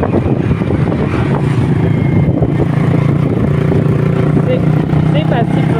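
A motorcycle fitted with an SC Project exhaust rides past on a street, its engine roar steady and close under a voice talking, with wind buffeting the microphone.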